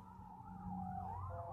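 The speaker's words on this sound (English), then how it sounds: "I don't care about the sirens." Faint emergency sirens wail in the distance, their pitch sliding up and down over a low rumble of traffic.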